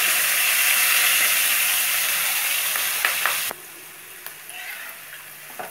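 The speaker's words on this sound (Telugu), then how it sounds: "తీసి మనం సన్నగా కట్ చేసుకున్న ఉల్లిపాయలు పచ్చిమిర్చి వేసి వేయించాలి." Sliced onions and green chillies fry in a pan with a loud, steady sizzle that drops to a quieter crackle partway through, with a few stirring clicks.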